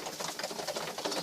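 Tippler pigeons in a loft coo softly in a short burst of low, rolling calls, close and fairly quiet.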